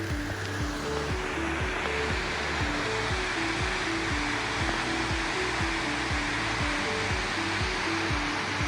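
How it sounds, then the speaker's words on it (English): Carrington Falls waterfall in flow, a steady, loud broadband rush of falling water filling the scene without pause, with a continuous low rumble and layered background noise beneath it. "And the falls, which are flowing pretty well and are very impressive."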